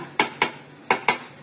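Rice being fried and stirred in a pan, with a spoon scraping and knocking against the metal in four sharp strokes that come in two pairs, close up and with no speech.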